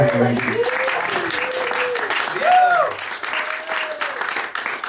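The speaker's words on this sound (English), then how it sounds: "Applause machine." Canned applause from an applause machine at a live stage performance, a steady wash of clapping running the whole time beneath someone talking over it.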